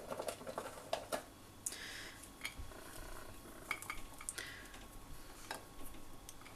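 Dried currants are spooned into a baking dish holding cinnamon-sugared pears, giving a string of light clinks and taps of spoon against dish over quiet room noise, with no talking.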